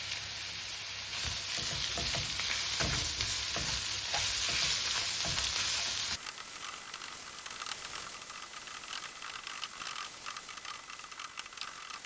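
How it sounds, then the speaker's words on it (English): Ground beef for lasagna hits a hot pan with a loud, busy sizzle and stirring scrapes for about six seconds, then settles into quieter, steady frying. "And then you throw in your ground beef."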